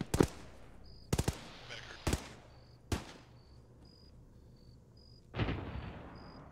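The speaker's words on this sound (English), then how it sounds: "We're taking fire from the north as well" Gunfire rings out in a video game battle as sharp, loud shots come in scattered bursts, some single and some doubled, with a faint insect-like chirp underneath between them.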